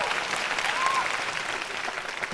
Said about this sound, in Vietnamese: những tràng vỗ tay của quý vị dành cho phần thi của Ngọc Lan